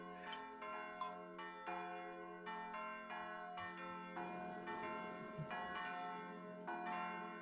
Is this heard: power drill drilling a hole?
no